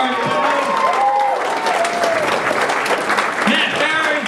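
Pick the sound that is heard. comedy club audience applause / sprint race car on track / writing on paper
comedy club audience applause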